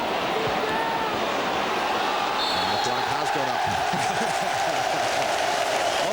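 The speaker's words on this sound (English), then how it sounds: "Almost as big a cheer as a goal, isn't it?" Big football stadium crowd roaring and cheering at Bradford City v Liverpool, a dense, sustained wall of noise loud throughout, with a commentator talking over it.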